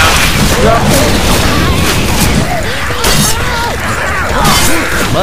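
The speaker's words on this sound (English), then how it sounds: "All I've got's a shotgun." Shotgun blasts boom repeatedly through a chaotic horror video game fight against mud creatures in a haunted forest, loud and dense, with frantic players shouting over the gunfire and the game's other noise.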